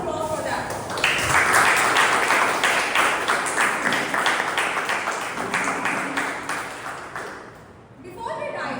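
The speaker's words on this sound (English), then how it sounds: "Let's give a big round of applause for that." A room of Toastmasters club members bursts into loud, dense applause at a meeting, sustained for several seconds before tapering off, then voices return at the end.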